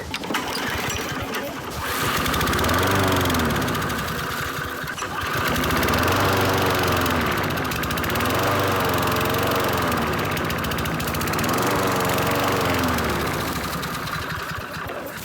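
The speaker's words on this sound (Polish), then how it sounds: "To jest stara kosiarka, którą tutaj znalazłem" An old lawn mower engine runs continuously, loud and rough, its pitch wavering and surging in uneven cycles as if struggling to keep going.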